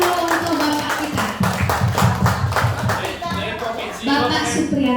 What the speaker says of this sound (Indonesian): Beri tepuk tangan dulu untuk Bapak kita